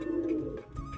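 Pigeons cooing inside their coop, a close, low throaty coo rolling continuously through the brief moment.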